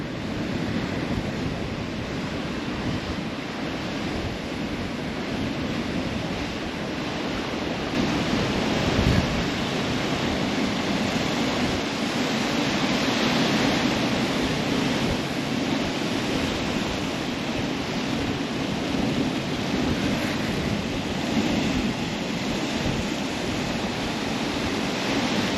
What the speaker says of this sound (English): I think the tide is coming in, if I had to take a guess. If I have a look at the waves.